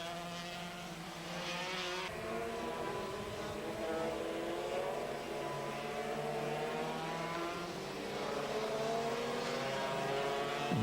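Several 250cc two-stroke racing motorcycles, Yamaha TZR 250 and Suzuki RGV 250 machines at a 1998 Sentul circuit race in Indonesia, scream past in a continuous loud pack, their high revving engines rising and shifting as they weave through slower riders.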